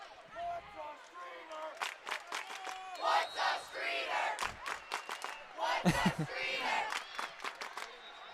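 Student section crowd chanting a rhythmic cheer in a gym during a high school volleyball state semifinal, loud and sustained, with scattered shouts and a few sharp thuds mixed in.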